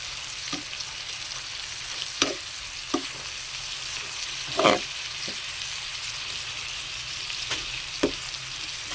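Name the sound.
sautéing water spinach (kangkong) in a pan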